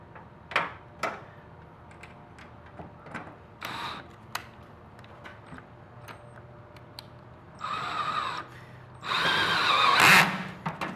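Power tool driving a clamp down onto a standing-seam metal roof to a 147 inch-pound torque setting, with short ticking clicks and then two longer loud whirring bursts near the end.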